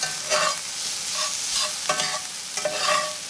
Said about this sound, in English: You can already hear it kind of sizzling because it wants to burn.